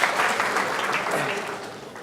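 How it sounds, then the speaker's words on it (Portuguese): Audience at an entrepreneurship talk applauding for a man, a dense steady round of clapping that tapers slightly toward the end, with no voices. "Palmas pro Renato"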